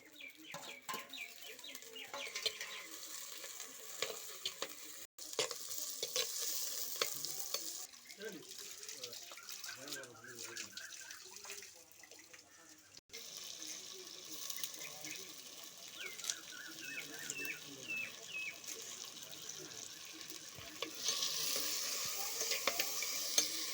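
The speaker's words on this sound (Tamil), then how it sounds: "வெங்காயம் நல்லா வதங்கிட்டு நம்ம இப்போ தக்காளி போட்டுக்கலாம்" Onions and tomatoes frying in a pan for village-style chicken thokku, a steady soft sizzle with occasional stirring scrapes throughout, with some background noise.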